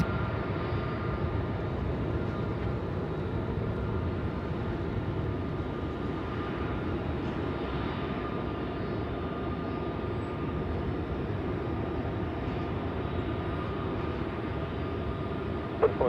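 Jet airliner engines spool up at Melbourne airport at night: a steady, broad roar that holds constant and fills the whole stretch, sounding distant and unbroken, with no talk over it.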